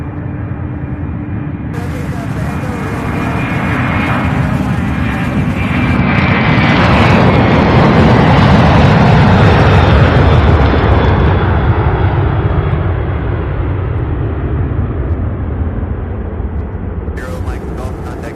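Jet aircraft engines roar at Louisville International Airport near the UPS Worldport, a loud, sustained broadband rumble that swells through the middle and eases slightly toward the end.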